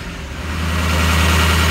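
A Ford 6.0 Powerstroke diesel engine in a Super Duty bucket truck runs steadily at elevated idle with the VGT closed to build heat, giving a loud, close, continuous low drone that swells slightly.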